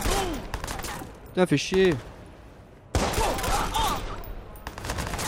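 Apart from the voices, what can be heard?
gunfire in the video game Watch Dogs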